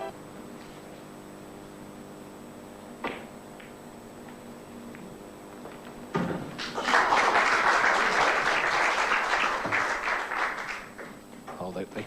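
Audience applause breaks out at a snooker match during a deciding frame, a loud burst of clapping that swells after a quiet stretch and carries on for several seconds before easing off.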